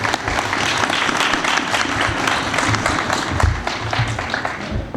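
An audience at an annual function in Faisalabad claps for a speaker, producing a sustained, loud wash of applause from many hands that carries on without a break, with no talking over it.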